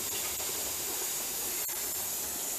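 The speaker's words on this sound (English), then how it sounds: "You can see that steam coming up good." Steady broadband hiss of steam venting from a Presto pressure canner on a stovetop flame, continuous and fairly loud for the whole stretch with no voices.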